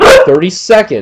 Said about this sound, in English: So I'm sorry for my dog barking.